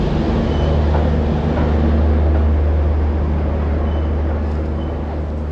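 A train pulling out of the station with a loud, continuous low rumble and roar that holds steady and close throughout, with no talk over it.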